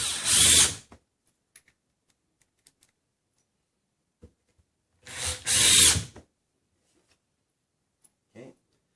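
A power drill whirs in two short, loud bursts, driving screws into a patch over a hole in a wall, separated by quiet gaps with a few faint clicks and handling sounds.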